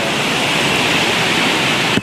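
Heavy rainwater rushing near Girnar in Junagadh during a downpour, a loud, constant roaring wash of flowing water heard close, with no voices.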